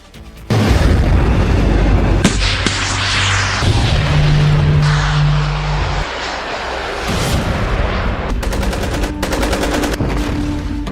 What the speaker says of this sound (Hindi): सऊदी अरब पर दनादन गोले बरस रहे हैं।